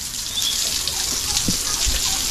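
Water drawn from a stream is poured out, a steady close splashing trickle running continuously, with a couple of soft low thumps near the end.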